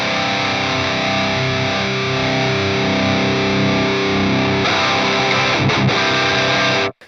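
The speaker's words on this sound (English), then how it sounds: "the mids all the way out sounds like this." Heavily distorted electric guitar played through an Atomic Amplifire using the Archon amp model with the mids turned fully down, a dense sustained chord ringing loud and alone for about seven seconds, then a few choppy strums before cutting off.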